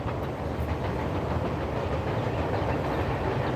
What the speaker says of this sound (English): let's let the train get by